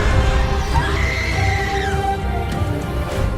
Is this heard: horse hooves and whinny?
yes